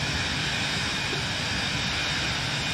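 A steady, dense jet engine roar from a Cirrus Vision Jet SF50 at throttle in Microsoft Flight Simulator, a constant broadband hum with no variation or voices.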